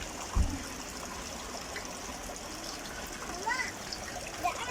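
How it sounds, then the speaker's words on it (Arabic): Cold drinking water runs from a tap at the Ain Asserdoun spring in Beni Mellal, Morocco, as a continuous trickling splash with small gurgles, moderately close and steady. "الحنفية نازل منها مي حلوة للشرب"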